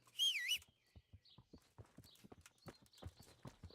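Horse hooves clip-clop at a walking pace in Kingdom Come: Deliverance, distinct separate steps at moderate volume, opening with a short whistle and a faint bird call.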